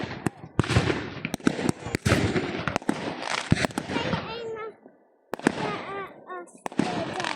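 Fireworks and firecrackers bursting repeatedly on bonfire night in the UK, sharp loud bangs and crackles in quick succession with whistling rockets, people talking and shouting between the blasts.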